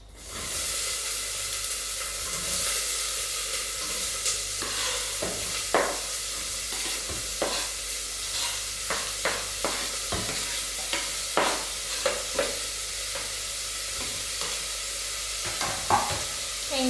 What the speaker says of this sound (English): I just chopped the onion, so I'm gonna dump this into the hot oil pan.